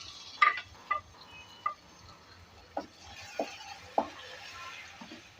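Chopped tomatoes tipped into a frying urad dal masala, with a few soft, scattered thuds and clinks of pieces and a spoon against the pan, spaced about once a second over a low, steady sizzle.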